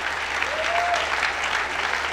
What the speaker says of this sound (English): Keep clapping, not for me, but for Jesus.